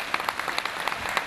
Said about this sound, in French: j'aimerais bien c'est qu'on applaudisse franchement toute l'équipe des établissements Alexandre